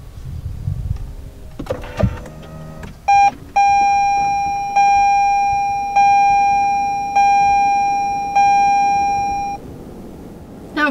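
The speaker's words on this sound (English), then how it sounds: "when you start it up, you won't necessarily hear an engine fire up. You'll just get the little notification that it is ready to go." Chime of a 2021 Toyota Venza Limited hybrid signalling ready at start-up: a steady electronic tone pulsing about six times in a regular rhythm, loud and close inside the cabin, preceded by brief clicks.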